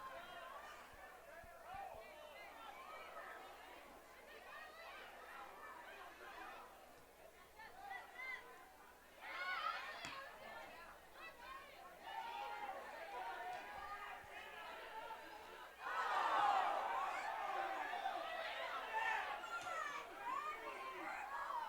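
Spectators at a Wenatchee high school soccer game murmur and shout in a steady outdoor babble, swelling louder toward the end as the crowd reacts, with many voices blending at a distance.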